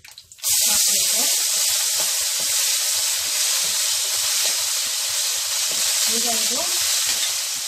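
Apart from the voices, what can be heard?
ginger garlic paste frying in a pan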